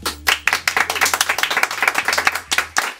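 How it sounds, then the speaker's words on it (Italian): Studio audience on an Italian TV singing show applauding and cheering continuously, a loud, dense wash of clapping under music, with no speech. "Sentite che applauso!"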